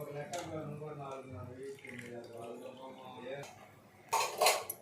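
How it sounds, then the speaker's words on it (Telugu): Fish pieces dropped into a pot of simmering tamarind curry, a brief clattering splash near the end that follows a stretch of talking. "ఇప్పుడు చేపలు వేసేస్తున్నా."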